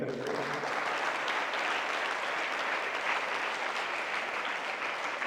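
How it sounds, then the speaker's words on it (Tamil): A gathering of young students claps for prize winners, a thick, continuous burst of crowd applause at a steady level from start to finish. "அதில் பரிசு பெற்றவர்களுக்கு வாழ்த்துக்கள் எல்லாத்துக்கும் சேர்த்து கைத்தட்டும்"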